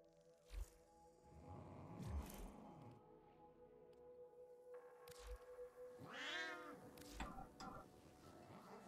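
A house cat meows several times close by, drawn-out wavering cries with quiet gaps between them, over faint room sound.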